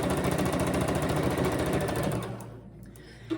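A sewing machine stitches two quilt blocks together for a scrappy rainbow heart quilt, a fast even run that slows and stops, followed by a small click.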